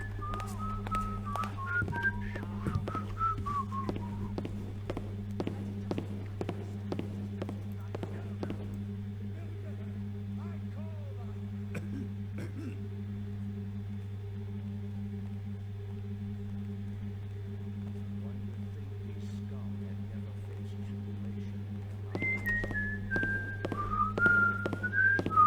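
A melodic whistled tune plays in short phrases at the start and again near the end of a Thief fan mission, over a steady low hum with scattered footsteps and thuds.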